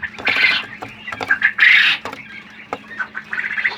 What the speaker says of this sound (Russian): Переполошкал всю птицу в перепелятнике.